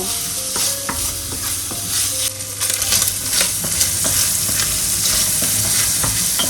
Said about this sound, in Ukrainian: Постійно помішую, щоб добре витопилось сало.